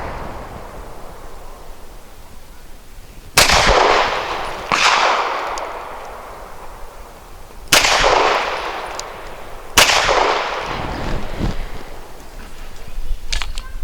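An Arsenal Firearms Strike One pistol fires heavy frangible non-toxic 100-grain rounds at an outdoor target, with four sharp, loud shots spaced several seconds apart, each followed by a ringing echo.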